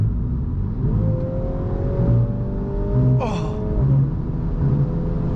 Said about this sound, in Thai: ดูเสียงท่อ